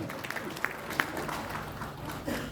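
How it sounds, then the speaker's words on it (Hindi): Audience at a swearing-in ceremony clapping, a faint spread of claps at moderate distance that runs steadily through the moment. "जोरदार ताली एक बार अगर आप सहमत हैं।"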